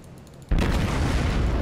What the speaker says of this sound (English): He's got hit with a couple torps